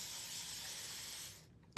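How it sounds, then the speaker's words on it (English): A spray bottle mists liquid onto a floating picture frame in a steady hiss lasting about a second and a half, then stops, followed by a short sharp knock at the end. "All right, let's spray this."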